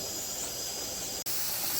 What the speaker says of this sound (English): Back valve is already whistling on us.